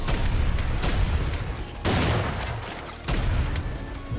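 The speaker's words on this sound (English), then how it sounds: "now the light's red, that means big guy in the middle's gonna start shooting." A boss enemy fires in the Serious SamCraft video game, a loud, dense barrage of overlapping blasts and booms with sharp bursts roughly every second.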